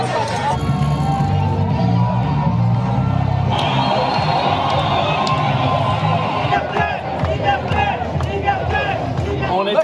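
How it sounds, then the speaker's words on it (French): Dense street crowd at a Paris protest, a steady roar of voices and babble with bursts of cheering and shouts throughout, loud and close. "À Paris, la foule était très compacte."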